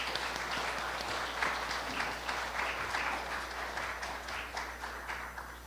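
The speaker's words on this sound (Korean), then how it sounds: "큰 박수로 맞아 주십시오" Lecture audience at a startup talk applauds to welcome a speaker, a sustained hall-wide clapping at moderate, even level over a low steady hum, running the full stretch without speech.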